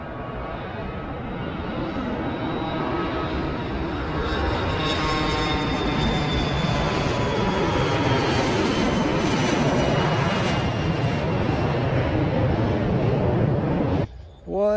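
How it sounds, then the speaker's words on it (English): A loud, close airplane engine roars steadily at night over an airport parking lot, a sustained drone that swells and holds for over ten seconds before cutting off abruptly near the end. "that's the last plane I'm gonna get tonight"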